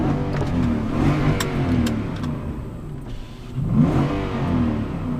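Nissan Titan XD 5.6L Endurance V8 heard from inside the truck while driving with a rear window down: a deep, burbling engine gurgle that rises and falls with revving and acceleration, loud and continuous with road noise, no talk.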